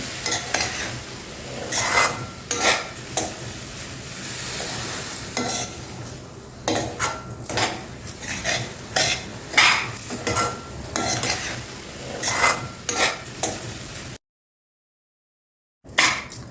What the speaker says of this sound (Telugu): గోరువెచ్చగా ఉన్న పాలు ఇందులో ఇట్లా వేసేయండి వేసి ఇట్లా కలిపేసేయండి